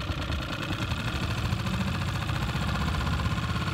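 A Tohatsu 6hp outboard motor runs steadily at close range, a loud, continuous mid-pitched engine drone with a fine regular pulse and no breaks, heard alone without talk.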